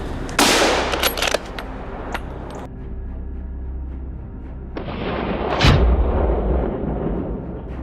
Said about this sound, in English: gunshots cracked through the forest